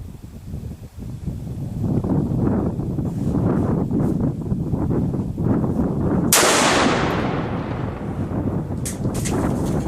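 A left-hand Browning X-Bolt Medallion 30-06 rifle fires a single loud, sharp shot at an outdoor range, its report ringing out over steady wind and background rumble.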